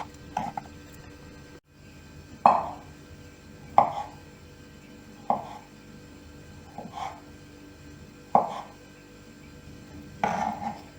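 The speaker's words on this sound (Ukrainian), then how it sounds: "Картоплю відварила в мундирах і теж нарізаю пластинками." Knife strokes slice boiled unpeeled potatoes on a board, about six separate soft thuds spaced a second or so apart, close and fairly quiet.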